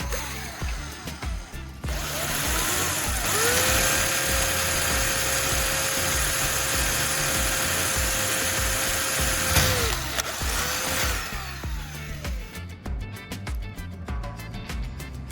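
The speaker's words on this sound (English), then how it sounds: "Drill a small hole in the bottle cap, just big enough to fit a thin plastic tube through later." A small drill bores a hole through a plastic cap from a WD-40 bottle, a steady high whine for several seconds that rises and then cuts off, with quieter motor hum around it.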